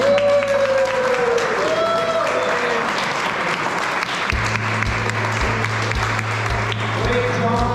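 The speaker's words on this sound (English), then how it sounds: "how about a round of applause for the race team?" A Boy Scouts Pinewood Derby audience applauds steadily throughout, dense clapping filling the space, with a low electronic hum joining partway and a voice briefly heard early on.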